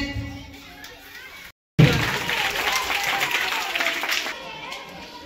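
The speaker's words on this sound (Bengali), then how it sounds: "আসুন করতালির মাধ্যমে আমরা সংবর্ধনা জ্ঞাপন করি।" At a school twinning program's cultural event, quiet voices give way after a brief silence to loud, sustained audience applause, a crowd of clappers close by with children's voices mixed in.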